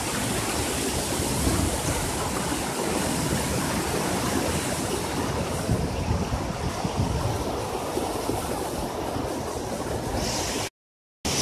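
A waterfall on the Kotra river roars in a steady, dense wash of rushing water, loud and close, with no voices over it before a brief cut near the end.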